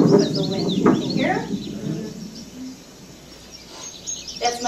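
Birds chirp and sing outdoors against a steady breezy background, with a voice talking over parts of the recording.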